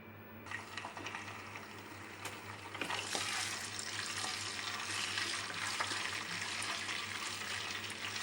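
Prawns deep fry in hot oil for an Andhra prawn pickle, a steady dense sizzle that starts abruptly and swells louder partway through, close and continuous with no talking.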